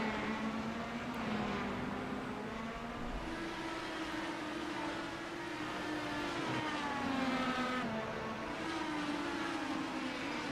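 Racing cars in the iRacing simulator at Road America in an Indy-style league race, a steady layered engine drone with several pitches rising and falling as cars shift and run in traffic, continuous and fairly close.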